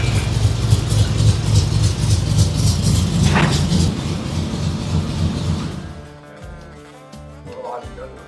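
Car engine with a rebuilt motor, mild cam and cherry bomb mufflers running with a loud, deep, steady rumbling burble up close, then the revs drop and it settles into a lumpy idle.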